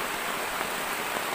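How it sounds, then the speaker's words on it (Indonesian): Heavy rain pours steadily through tall forest trees at a solo overnight camp, a dense, even hiss with no gaps and no voices. "Yeay, hujannya nambah deras."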